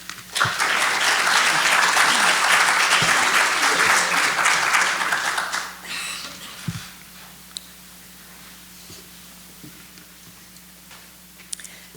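An auditorium audience at a candidates forum gives a long burst of loud, steady clapping for the arriving candidate, then it dies away within a second, leaving scattered claps and quiet room noise.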